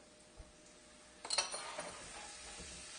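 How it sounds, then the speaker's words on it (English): Garlic, about half a tablespoon, is tossed into a pan of sautéing onions, setting off a sudden soft sizzle with a few light clinks that fades to a steady low fry. "The onions are just about ready, so I am going to throw in 1/2 a tablespoon of garlic in there."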